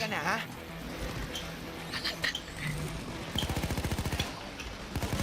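Rapid automatic gunfire rattles in Payday 2, with short bursts early on and a sustained fast volley in the second half, mixed with excited talk from players.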